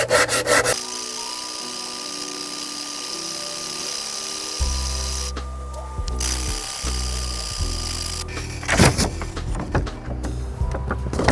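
Chisels and planer knives are honed on 1,500 and 3,000 grit sandpaper, giving repeated close abrasive rubbing strokes with rasping scrapes and shifting tones, growing busier and louder toward the end.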